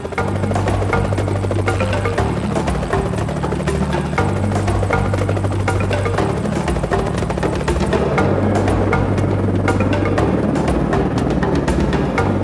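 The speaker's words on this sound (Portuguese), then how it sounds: "O helicóptero é o único modo de garantir um resultado fácil e rápido." A helicopter flying over the African bush during a veterinary elephant operation, its rotor throbbing in a loud, steady, close rhythmic thump with a turbine whine throughout and no talk.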